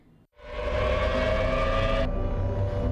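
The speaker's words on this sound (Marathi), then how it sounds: "शत्रूचा मिसाईल हल्ला होण्यावेळी सायरन वाजण्यास सुरुवात होते।" Civil defense air raid siren wails loudly and steadily after a brief silent gap, sustained tone with a slight shift partway through, no talk.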